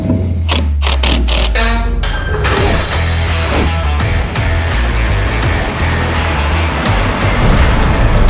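A Mazda B2200 pickup, also sold as the Ford Courier, drives along after ball joint and sway bar bush replacement, its engine and road noise a loud, steady roar throughout with no talking.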